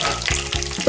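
Curry leaves, green chillies and mustard seeds hit hot oil for a tempering, giving a steady loud sizzle with two sharp bursts of crackle about a third of a second apart.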